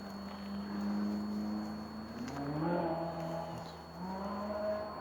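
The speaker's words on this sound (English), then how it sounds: "Somebody likes the sound of his engine." A boy racer's car engine revs in the distance on a street, the faint rising and falling whine rolling up and down over quiet outdoor ambience.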